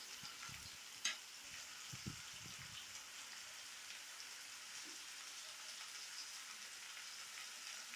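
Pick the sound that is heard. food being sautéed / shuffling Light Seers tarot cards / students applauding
food being sautéed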